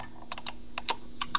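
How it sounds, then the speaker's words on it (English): Computer keyboard keys clicking during photo editing in Photoshop, a handful of separate crisp taps spaced irregularly, close and fairly quiet, with no talking. "I'm going to hold down the Control key on my keyboard to multi-select some pictures"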